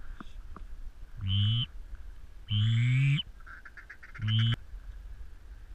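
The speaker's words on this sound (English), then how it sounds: "I hear honkers" Cartoonish honking goose calls in a video game, three distinct harmonic honks spaced a second or so apart, the middle one longest, loud over a low steady game background.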